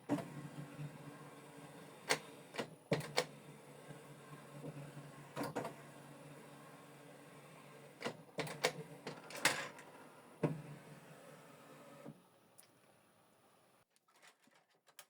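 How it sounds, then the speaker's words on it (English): A Canon Pixma TS3750i printer powering on, with intermittent mechanical clicks, whirs and brief motor bursts over quiet hum, then settling into near silence. "Switch the printer on from this button."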